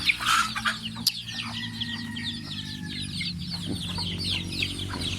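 Backyard chickens cluck and chatter close by in an overlapping flock, with soft repeated calls, a few sharper squawks, and some faint background farmyard noise.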